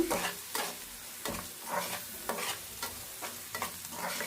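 Spoon stirring a frying spiced mixture with chili powder and green chilies in a pan, steady sizzling under rhythmic scraping strokes about every half second, close and continuous, with no talking.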